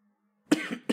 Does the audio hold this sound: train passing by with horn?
no